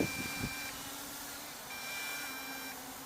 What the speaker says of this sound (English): So there's also alarm for that when you're getting out of signal.